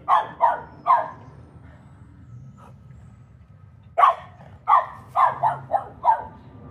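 A dog barks near an outdoor AC condenser unit during a repair call, with a quick burst of three barks, a pause, then a louder volley of five or six rapid barks.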